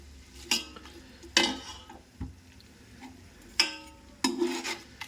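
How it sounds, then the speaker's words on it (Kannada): Ingredients for a country chicken dum biryani, bay leaf among them, fry in a pan while a utensil stirs them, giving several sharp scraping clatters over a faint steady sizzle, close and with no talking. "ಫ್ರೈ ಮಾಡೋಣ."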